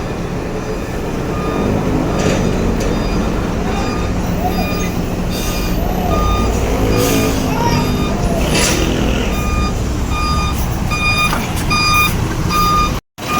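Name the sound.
80-ton mobile crane truck reversing with beeps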